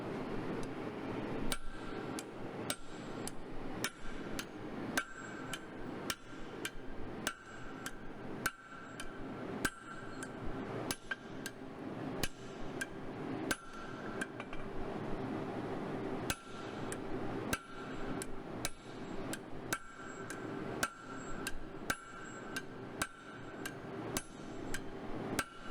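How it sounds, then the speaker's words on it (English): Blacksmith striking a flatter set on a metal workpiece being shaped into a chisel, steady rhythmic metallic hammer blows with ringing clinks, dozens of close sharp strikes through a workshop, no talk. "like you can see in every blow, flatter must be kept a bit distant from the workpiece."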